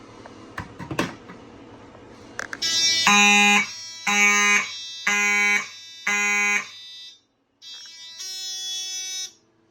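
A Simplex 4002 fire alarm system sounds during a smoke detector test, buzzing in loud, evenly spaced pulsing bursts, then a short pause and one more long tone.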